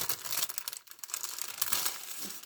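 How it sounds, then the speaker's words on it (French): Packaging crinkling and rustling continuously as a parcel is unwrapped, close and fairly soft, with a brief pause before the crumpling resumes. "Alors, je déballe."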